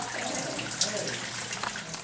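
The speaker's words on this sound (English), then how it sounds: "we are here at the famous Fountain of Youth getting the water" Water splashes steadily from the sulfur-scented mineral spring at the Fountain of Youth in St. Augustine, a continuous close gush with faint voices in the background.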